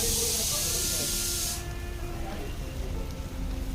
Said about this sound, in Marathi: बघा याच्यावरती बटर टाकतो ना